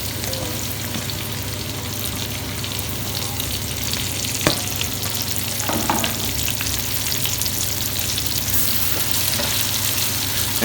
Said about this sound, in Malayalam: പെരിഞ്ചീരകം പൊട്ടി വരുമ്പോൾ നമ്മൾ നേരത്തെ വെച്ചിട്ടുള്ള സബോള അതിലോട്ട് തട്ടി കൊടുക്കുക.